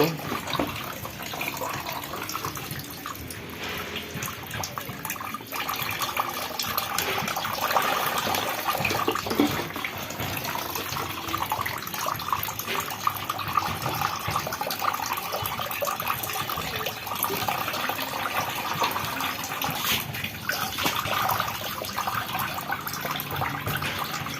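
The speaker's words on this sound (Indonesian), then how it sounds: "Kita siram sampai airnya jatuh seperti itu." Water splashes and pours steadily onto a potted aglaonema plant, a continuous close hiss and patter with faint voices in the background.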